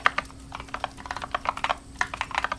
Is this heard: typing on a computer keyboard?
yes